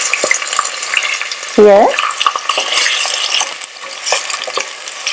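Onion fries in about half a cup of oil in a pressure cooker, a loud continuous sizzle with a brief stirring scrape partway through; a voice speaks a word.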